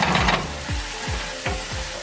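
Garlic for sofrito sizzling in oil over medium-high heat, a steady close crackle broken by a few sharp stirring scrapes and knocks of a utensil against the pan, with no voices.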